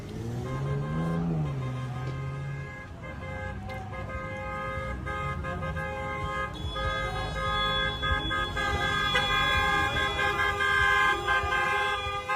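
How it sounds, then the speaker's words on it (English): Many car horns honk together outside a debate event, with overlapping sustained blasts and repeated toots mixed with the rumble of traffic, loud and continuous throughout. "I love everybody's honking and making noise."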